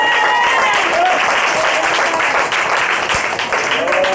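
A church congregation at an evangelical service applauds loudly and steadily, a dense wash of many hands clapping together, with scattered voices rising over it.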